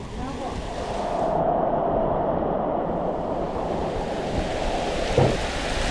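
Strong wind gusts roar across an exposed spot among trees and plants, a broad rushing buffet on the microphone that swells and holds, with a brief knock near the end.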